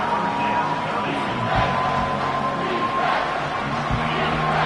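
A football stadium crowd roars on a third down during a college game, a dense, loud, sustained wall of cheering and yelling with no letup.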